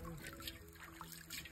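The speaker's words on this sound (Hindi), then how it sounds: "मटका धोने का काम चल रहा है" Faint water trickling and dribbling while a clay pot is washed outdoors in Jharkhand, a soft continuous splashing with background voices underneath.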